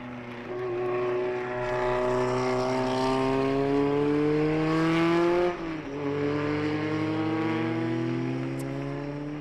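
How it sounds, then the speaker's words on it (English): A Gloria B4 single-seater race car at a classic race at Jarama crossing the finish line, a loud engine note rising and falling as it passes, the pitch shifting as it goes by, no talk. "Sierra has already crossed the line in his Gloria B4"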